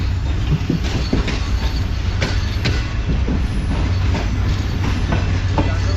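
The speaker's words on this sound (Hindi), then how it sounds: "मेहरान एक्सप्रेस भी इस वक्त अप्रोच बना रही होगी बिल्कुल कोठी जंक्शन पर" The Mehran Express rolls in near Kotri Junction, a loud, steady rumble of railcars with rhythmic wheel clatter and faint squeals, heard close by and continuous, with no voices.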